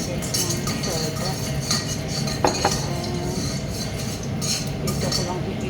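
Adobo mushrooms and potato sautéed in a pan, with a spatula clinking and scraping against the metal in irregular taps over a steady background sizzle, while a voice talks throughout.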